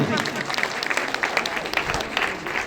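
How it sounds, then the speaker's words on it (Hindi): Loud applause from a village crowd welcoming home a Commonwealth Games gold medallist, dense and steady with some voices mixed in throughout. "एक बार जोरदार तालियां तो बनती है कि नहीं बनती।"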